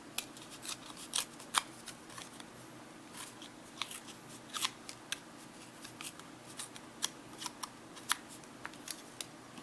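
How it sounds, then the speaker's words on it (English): Paper being torn by hand for a shabby-style handmade card, heard as a series of sharp, crisp rips and crackles spread irregularly across a quiet background. "and again I'm just going to tear it."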